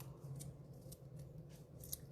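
Scissors snip the end of a ribbon off a handmade card, with a few quiet, crisp cuts spread out over a faint background hum.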